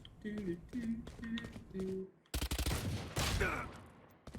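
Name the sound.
Phantom rifle gunfire in a video game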